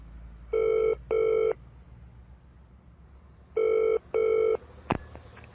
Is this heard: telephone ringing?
yes